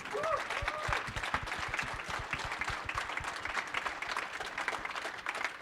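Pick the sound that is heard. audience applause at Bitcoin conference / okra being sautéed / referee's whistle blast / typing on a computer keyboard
audience applause at Bitcoin conference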